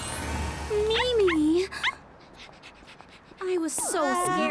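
Cartoon puppy whimpering in a children's animated series, several short high pitched whines and yips near the start and again near the end, over background music with a brief quiet gap between.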